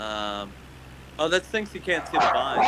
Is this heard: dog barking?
yes